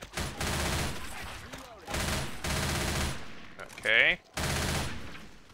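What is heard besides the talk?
gunfire shooting the mudman in Left 4 Dead 2 video game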